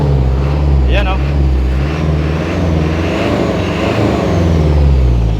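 An Isuzu 4HL1 diesel engine, repaired after a no-RPM stalling fault, idles with a steady low rumble close by, while someone speaks briefly over it.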